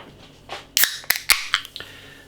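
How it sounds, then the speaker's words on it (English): A mango and coconut New England IPA can cracks open with a sharp hiss and a few quick metallic snaps, close and crisp, with no talking. "Nice bit of smoke on the can opening."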